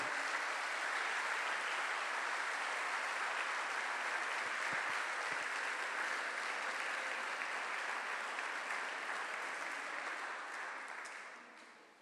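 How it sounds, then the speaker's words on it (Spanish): A church congregation applauds during a worship service, a thick, uninterrupted roar of many people clapping that holds level for a long stretch before fading out at the end. "Aplauda al Señor,"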